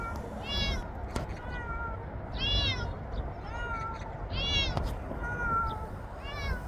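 A cat meows repeatedly, about four or five short mews spaced a second or so apart, over a steady background hum.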